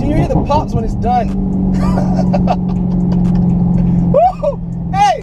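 A Dodge Charger SRT Hellcat engine rumbles loudly and closely after a hard acceleration run, with crackling bursts from the exhaust. Excited shouts and talk recur over the engine throughout.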